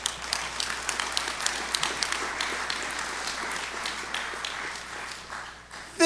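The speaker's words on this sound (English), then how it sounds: "let's applaud ourselves for how far we've come." Graduation ceremony audience applauding, a dense patter of clapping heard at moderate distance that holds steady for several seconds before thinning out.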